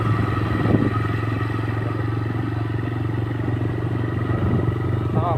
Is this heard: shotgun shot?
no